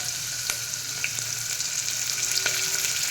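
Onion, green chili and curry leaves hitting hot oil in a pan, giving a loud, steady, close sizzle with a few faint clicks of a spoon.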